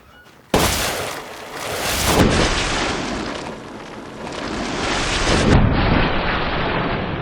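A Magnum fires a critical headshot on a standard enemy in a video game, a sudden loud blast that opens a long, booming roar, with a second heavy burst near the end and no talk.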